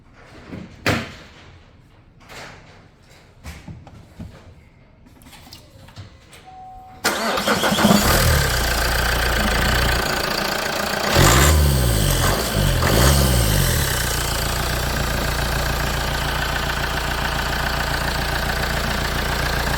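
After a few soft clicks and knocks, a 2013 Vauxhall Zafira engine cranks and starts with a roar after an alternator replacement, then settles into a steady, close idle.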